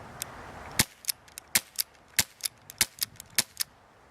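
A Crosman Vigilante .177 caliber CO2 BB and pellet pistol fired in single action. It gives a quick run of about ten crisp, sharp pops at an uneven, brisk pace, with no voices.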